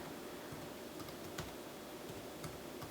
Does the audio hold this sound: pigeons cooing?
no